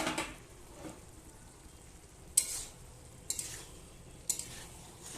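Ingredients for khichuri sizzle softly as they fry in a pot, with a few sharp clinks of a spoon stirring against the metal at a steady interval.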